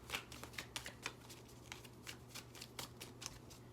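Tarot cards shuffled during a love reading, a steady run of soft papery riffles and flicks repeating about twice a second, close and fairly quiet, with no voices.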